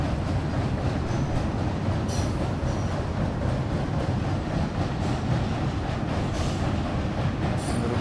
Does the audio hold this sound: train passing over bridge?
yes